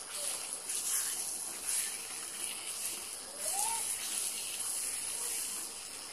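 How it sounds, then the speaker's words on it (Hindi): Water pouring into a pan of chicken korma on the stove, a soft steady gushing splash with a faint bubbling sizzle, quiet and close. "अभी हम थोड़ा सा पानी डालेंगे"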